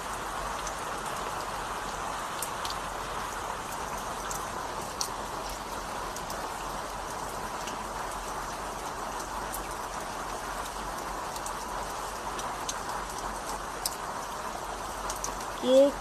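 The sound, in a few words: heavy morning rain falling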